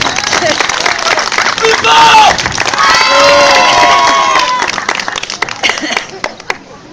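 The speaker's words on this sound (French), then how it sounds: "Je pense qu'on peut applaudir Cathy la victime." At an open-air medieval festival show in Gruissan, a crowd claps and cheers loudly for a volunteer, with high whoops and shouts rising over the applause before the noise tapers into scattered claps.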